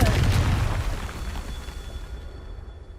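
A Confringo blast spell goes off in Hogwarts Legacy, a loud booming burst at the start that rolls away into a long fading rumble with no talk.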